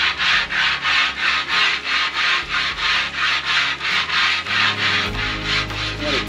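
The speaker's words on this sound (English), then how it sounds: "I have this pummel block, which is a cleaning block that allows me to clean it with a little bit of grit to it." Pumice cleaning block scrubbed hard across a Blackstone griddle's metal surface to knock down lumps, a loud gritty rasp in steady back-and-forth strokes roughly twice a second, close up with no voices.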